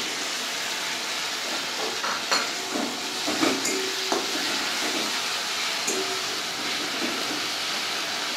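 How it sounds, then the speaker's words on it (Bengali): Ginger, tomato and green chilli paste goes into onion and garlic frying in a pan for a banana flower curry, giving a steady hissing sizzle with a few soft stirring knocks. "এবার আমি ওর মধ্যে যেটা পেস্ট করে রেখেছি আদা টমেটো কাঁচা লঙ্কা এগুলো দিয়ে দেব"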